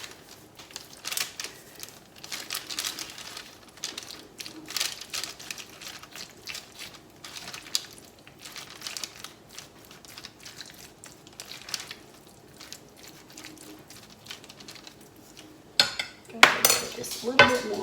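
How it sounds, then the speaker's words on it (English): Spaghetti squash noodles stirred into Alfredo sauce, a run of close scraping clinks of a utensil against a pan, irregular and light, with a louder clatter near the end. "I'm going to stir those up in there."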